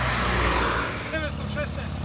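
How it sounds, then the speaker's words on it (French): A 1977 Peugeot 104 drives along a road, its engine a steady rumble under rushing wind, while voices talk briefly over it. "Vozi Peugeot 104 i 77 godište."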